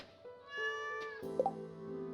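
A cat in the Stardew Valley video game meows twice in clear, tonal calls, close and moderately loud over soft game music, the second meow brighter and wavering.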